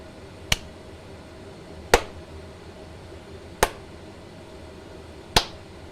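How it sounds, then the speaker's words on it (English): Four sharp hand claps, spaced a little under two seconds apart, ring out alone against a quiet room hum during an audio sync test. "Give a clap."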